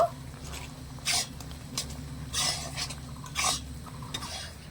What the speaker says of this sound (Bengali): মিষ্টিগুলো দিয়ে দেব এবারে ভালো করে মিশিয়ে নেব